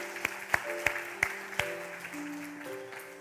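Scattered applause from a church congregation during a Sunday service appointment ceremony, a few distinct loud claps standing out over sustained organ or keyboard chords.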